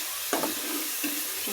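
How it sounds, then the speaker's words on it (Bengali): Spices stirred and frying in a pan for farm chicken curry, a close, steady sizzle with a few scraping stirs of the spoon. "মশলা দিয়ে এখন মশলাটা কষিয়ে নিচ্ছি।"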